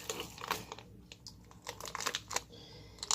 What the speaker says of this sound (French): je vais couper le fromage